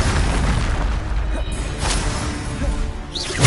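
A heavy booming blast from the Bombarder spell in Hogwarts Legacy rumbles loud and close, with a sustained roar of debris and a voice speaking briefly near the end.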